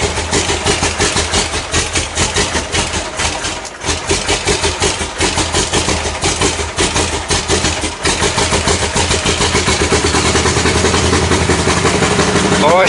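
A 1979 Ford F150 Custom pickup idles with a loud, steady low rumble throughout, close by, with a rough pulsing texture and a slight lift in level near the end.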